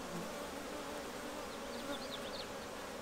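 Honey bees buzzing at the hives during a hive inspection, a dense, steady drone of many insects close by, continuous and even throughout, with occasional individual bees whining past and no voices.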